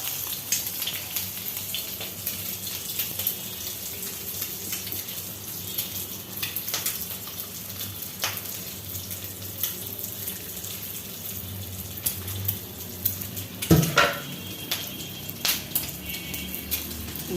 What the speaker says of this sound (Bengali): তো আমি চাটা ছেঁকে নিব।